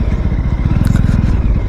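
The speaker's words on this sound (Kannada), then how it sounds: "ಈ ಇಂಜಿನ್ ಸೌಂಡ್ ಒಂಥರ ರಾಗಿ ಮಿಷಿನ್ ಸೌಂಡು" A Yezdi or Jawa motorcycle engine runs close by, its even, rapid low thump pulsing steadily throughout the short moment with no voices.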